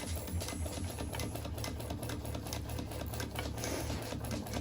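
A sewing machine runs steadily, stitching the seam of a fabric bucket bag with a fast, continuous mechanical whir and rattle that holds at an even pace from start to finish.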